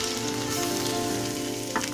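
Chopped ginger and garlic frying in a kadai, a steady dense sizzle running close and constant throughout, with a brief stir or clatter near the end.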